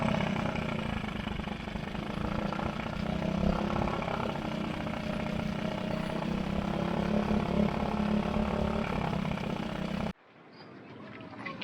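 A boat's outboard motor runs roughly with a steady, droning, slightly uneven engine note for about ten seconds, then cuts off abruptly, leaving quiet background.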